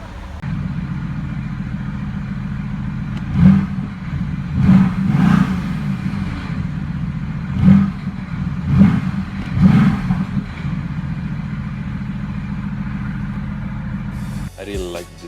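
A Mercedes-AMG GT S Edition 1 sports car's engine revving in race mode: a steady deep rumble broken by several sharp throttle blips, loud and close, ending with a brief click.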